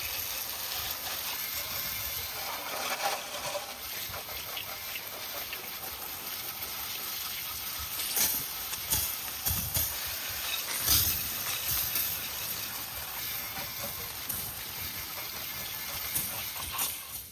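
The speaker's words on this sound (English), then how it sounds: "Spray all that soap off of there." Water spraying onto a CRT television to rinse off soap, a steady hissing gush running throughout with slight surges and no talk.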